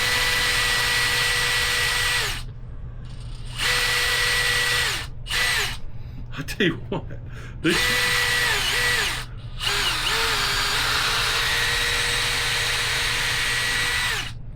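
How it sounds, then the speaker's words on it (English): A power drill whines loudly in sustained runs, stopping and restarting several times as it bores through tough shoe rubber, with a brief spoken remark. "Bigger drill bit."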